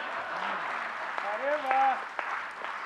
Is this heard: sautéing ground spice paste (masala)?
no